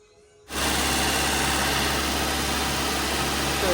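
A 1973 MGB GT engine bursts into life after its first start-up following installation, jumping from quiet to a loud, steady idle that runs close and unbroken for several seconds.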